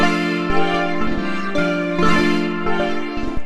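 A Polymath sequencer in Ableton repeats a short pattern of bright, buzzy synthesizer notes in a steady rhythm with no octave shifts, staying in one register, loud and close.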